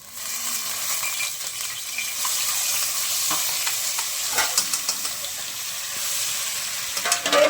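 Spices tempering in hot oil for a vaghar sizzle and crackle loudly and close, a steady frying hiss with sharp pops and spatters scattered throughout, no talk.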